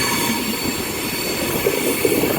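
A Virgin Class 390 electric train, unit 390043, rolls steadily through Carlisle station with a loud, close rumble, a faint wheel squeal and some clatter over the rail joints.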